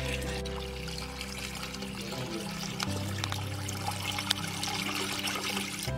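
Remaining water from a 20-litre batch poured into a jeevamrit mixture, a steady continuous splashing pour that runs unbroken throughout, close and moderately loud, with no talk.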